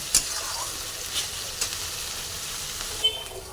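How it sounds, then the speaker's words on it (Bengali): Spice paste fries in a pan for prawn malai curry, a soft continuous sizzle with a few faint utensil taps spread across it, quiet and unaccompanied by speech. "মশলাটা কষানো হয়ে গেছে"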